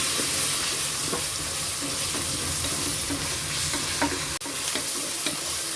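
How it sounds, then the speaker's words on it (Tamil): Ginger garlic paste sautés with onions in a pan for a hot and spicy chicken gravy, giving a steady close sizzle with occasional stirring scrapes throughout. "இதெல்லாம் நல்லா வதக்கி கொடுத்துருவோம்."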